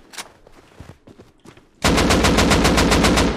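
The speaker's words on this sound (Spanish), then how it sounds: "Me están disparando con AK desde el fondo" AK rifle fire in the video game Rust: a few scattered distant shots, then a loud, rapid sustained burst of automatic fire with a regular rhythm.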